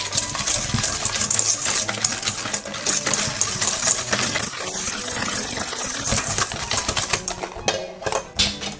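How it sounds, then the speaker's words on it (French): Egg yolks, sugar and vanilla extract are whisked in a bowl for a Bûche de Noël, giving a continuous, rapid metallic clatter of the whisk against the bowl, close and fairly loud throughout. "On va également ajouter l'extrait de vanille et on va mélanger."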